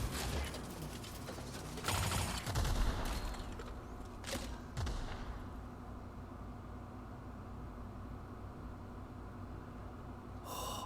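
A weapon in The Outer Worlds video game fires explosive rounds, giving a few loud booming blasts with rumbling tails early on, then dying down to quiet ambience.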